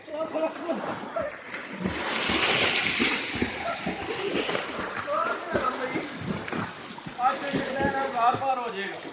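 Water splashes and sloshes as people bathe outdoors on a hot day in Pakistan, steady splashing throughout with people talking and calling over it.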